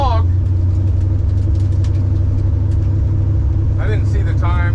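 A 1955 Chevy engine idles rough and bogs with a loud, steady low rumble, while someone talks over it at the start and near the end.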